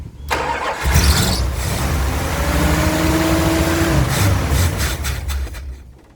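Car engine with a slipping transmission cranks hard with a steady rhythmic grinding, then strains and catches briefly, loud and close, with no talking.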